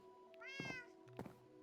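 A Minecraft cat meows once, clear and close, with a rising then falling tone, followed by a couple of soft thumps in an otherwise quiet game scene.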